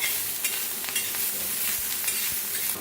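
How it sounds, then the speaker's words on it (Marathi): Masala rice being stirred in a pan, a soft steady scraping and gentle sizzle heard close and fairly quiet, with no talking. "थोडंसं छान असं हलवून घेऊया"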